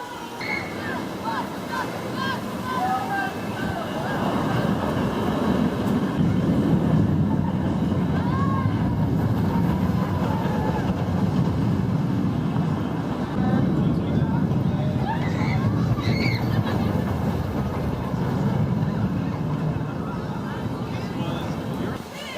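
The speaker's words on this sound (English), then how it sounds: "It's another one of these small family wooden coasters." Zach's Zoomer, a small family wooden roller coaster at Michigan's Adventure, rumbles continuously along the track with heavy wind buffeting and faint voices mixed into the low roar.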